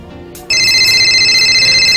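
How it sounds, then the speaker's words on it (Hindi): A phone ringtone starts abruptly about half a second in and keeps ringing steadily with bright electronic tones, close and loud, marking an incoming call from mom. "मम्मी का फोन है।"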